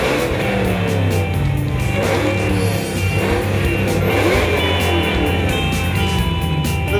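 A car with over 700 horsepower revs hard and steadily, a loud, close, raspy engine roar that holds at high pitch throughout with no talking.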